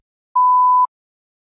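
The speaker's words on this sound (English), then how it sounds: "You may begin to prepare your response after the beep." A single clean, mid-pitched electronic beep lasting about half a second, alone in silence.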